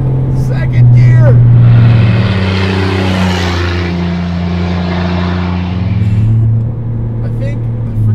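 A modified 2002 Chevrolet Impala engine revs hard under acceleration in second gear, a loud rising drone holding for several seconds before easing, with people talking faintly at the start and end.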